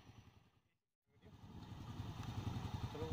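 A motorcycle engine rumbles close by, cutting out briefly and then returning with a steady, growing throb.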